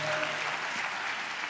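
A church congregation claps together in praise of Jesus during a sermon, a dense, continuous burst of applause filling the room, steady and fairly loud with no speech over it.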